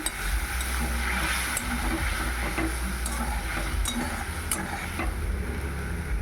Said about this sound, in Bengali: এবার আমি দিয়ে দিচ্ছি পরিমাণ মতো জল আর ডিমের কারি হবে